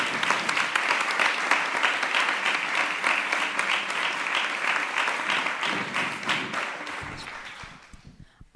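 Sustained audience applause at an award ceremony, a dense steady clapping from a large crowd that continues for several seconds before thinning out to a few scattered claps at the end.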